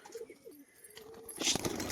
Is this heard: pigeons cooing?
yes